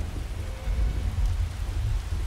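Steady rain falls in a dreary outdoor setting of the video game Skyrim, with a dense hiss and a deep low rumble underneath, continuous and fairly loud without any voices.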